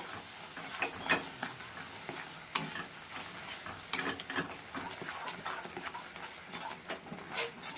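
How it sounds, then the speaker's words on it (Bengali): Masoor dal with tomatoes and water gets stirred in a pot, a run of quiet scraping strokes and soft clatter from a spoon against the pot over a faint bubbling hiss, no voices. "দেখো এবারটা কিন্তু আমি নাড়িয়ে নেব সব কিছু দিয়ে"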